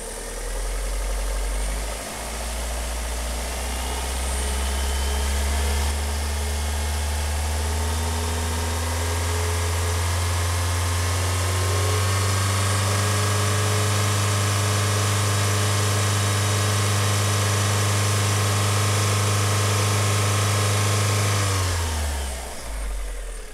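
A Mitsubishi Lancer IX 1.6 (4G18) engine starts cold and idles at a steady, fairly high rumble for a long stretch, the pitch easing down slightly before it shuts off.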